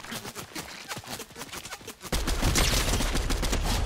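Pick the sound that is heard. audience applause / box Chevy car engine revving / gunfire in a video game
gunfire in a video game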